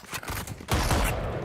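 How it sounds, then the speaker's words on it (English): Rapid automatic fire from the Stinger in the shooter game Valorant crackles in a dense burst, loud and close, rising in intensity partway through with game effects layered around it. "This is what I call a stinger shot."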